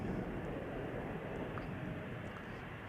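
A KLM Embraer 175 airliner departs Amsterdam Schiphol, a broad roaring jet engine rumble, loud and sustained, heavy in the low end without breaks.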